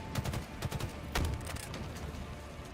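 Rapid bursts of gunfire from the Halo video game at a competitive HCS Worlds event, with several quick volleys followed by a heavier blast near the middle, all fairly close and continuous.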